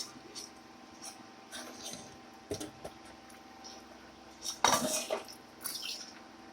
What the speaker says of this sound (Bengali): ঢাকা খুলে দেখে নিচ্ছি সিদ্ধ হয়েছে নাকি